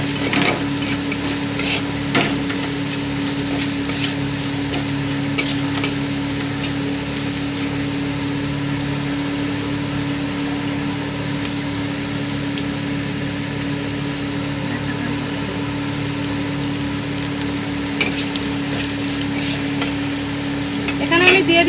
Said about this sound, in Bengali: দিয়ে হালকা করে নেড়ে নেব